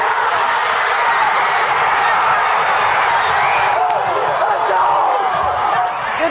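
A high school football crowd cheering in the fourth quarter of a comeback win, a sustained roar of many voices filling the stands, loud and even throughout.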